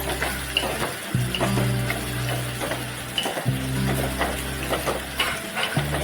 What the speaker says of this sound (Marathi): कढीपत्ता आणि एक अर्धा टॉमॅटो आता आपण व्यवस्थित मिक्स करून घेऊया